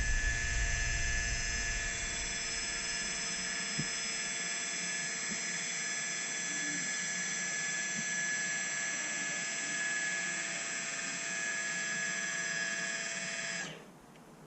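A spring-return bypass valve actuator on a glycol heating system closes with a loud, steady mechanical whine and hum that holds evenly for about thirteen seconds, then cuts off abruptly into quiet.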